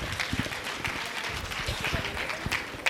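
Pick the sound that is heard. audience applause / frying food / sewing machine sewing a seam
audience applause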